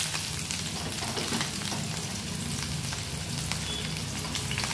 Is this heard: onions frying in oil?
yes